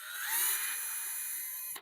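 A Ryobi cordless drill runs in drill mode, a single high whirring spin that holds steady for under two seconds before cutting off abruptly with a short click.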